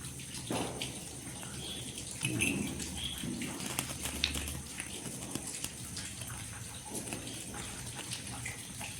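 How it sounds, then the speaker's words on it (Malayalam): Light drizzle falls outdoors on an evening of Deepavali light decorations, a soft, steady patter of drops with a few slightly louder splashes and no talking. "ഞാൻ പുറത്ത് നിന്നിട്ടാണ് എടുക്കുന്നതെങ്കിലും മഴയൊക്കെ തൂളുണ്ട്"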